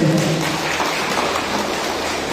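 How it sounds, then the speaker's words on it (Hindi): A crowd at a district vendors association general conference gives loud applause to welcome guests, a dense, even wash of clapping sustained throughout. "जोरदार तालियों से स्वागत कीजिए"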